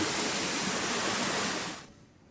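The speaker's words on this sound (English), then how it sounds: "these loud water systems in this ship are just cool" Loud rushing water from the ship's water systems in Dead Space, a steady broadband roar close and full before cutting off abruptly near the end.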